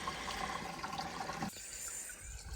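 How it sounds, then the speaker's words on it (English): Water trickles steadily into a filling farm tank, a continuous wash of liquid noise that shifts to a thinner, quieter flow partway through, with no voices. "Okay, it's starting to trickle."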